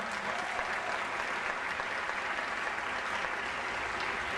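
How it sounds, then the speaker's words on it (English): An audience at a Martin Luther King Jr. Day event gives the middle and high school drummers sustained, even applause, a full crowd clapping steadily throughout at moderate volume. "Let's give those drummers a round of applause."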